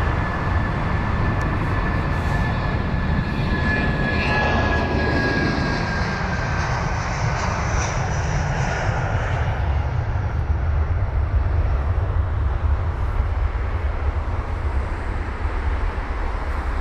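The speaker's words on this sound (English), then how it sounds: "A319 bound for Luxembourg is on the runway." A 17-year-old Airbus A319 jet bound for Luxembourg takes off at London Heathrow with a loud, sustained engine roar and a high whine that slowly sweeps past and recedes into a broad rumble.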